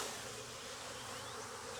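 Honeybees buzz steadily and densely at close range while a hive is opened for inspection, a continuous swarm drone with no talking over it.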